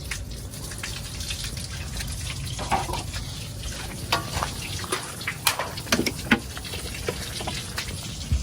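A steady, close rush of water pouring and gushing out through the floor drain plugs of a Jeep Wrangler, with occasional splashes and drips over the continuous flow.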